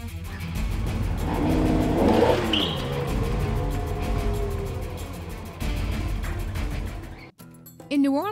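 Car pulling away and accelerating on the streets of New Orleans, engine note rising and shifting under ongoing talk and road noise, before a sudden cut to quieter sound near the end.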